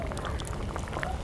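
Chempalli fish curry bubbling in a clay pot, a steady close wash of soft boiling and popping with faint small clicks, no voices.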